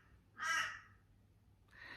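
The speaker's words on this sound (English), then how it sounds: "if it's not the pterodactyls, it's the crows" Crows give two harsh caws, a louder one followed by a shorter, softer one, with a quiet pause between them.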